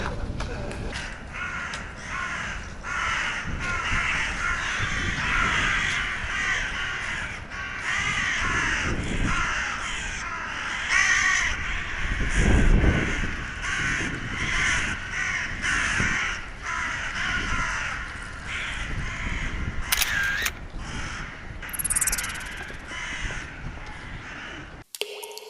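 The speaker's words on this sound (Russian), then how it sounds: "Это все вороны." Many crows caw continuously around a spot in central Kyiv, a dense, loud chorus of harsh calls rising and falling over the whole stretch.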